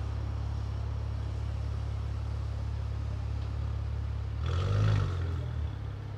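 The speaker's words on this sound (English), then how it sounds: "So that was the sound of a Maserati Levante." Maserati Levante engine running on a London street, a steady low rumble with a brief louder surge near the end, moderately distant.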